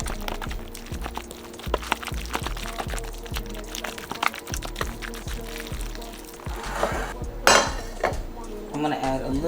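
Metal utensils clink and scrape against a dish while a block of cream cheese is mixed by hand, with rhythmic repeated taps and knocks and a louder clatter near the end, close and fairly sharp.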